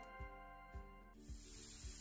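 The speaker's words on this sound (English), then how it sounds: "Spray in all the pieces of the plane." Spray painting toy plane parts in Toy Tinker Simulator: after a few soft bumps over steady tones, a sustained hissing spray bursts in and runs loudly to the end.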